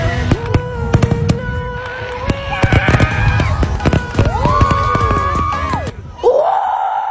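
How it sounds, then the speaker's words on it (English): Fireworks sound effect: a dense volley of sharp crackling pops and bangs with whistling rising rockets, followed by a final whooshing streak near the end, loud and busy throughout. "Fireworks."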